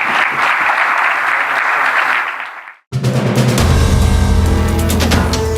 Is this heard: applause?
yes